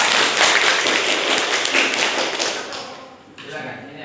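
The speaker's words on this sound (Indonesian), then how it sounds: "Woi, tepuk tangan." A classroom of students claps hands in a quick dense burst that fades toward the end, close and fairly loud, with a few voices mixed in.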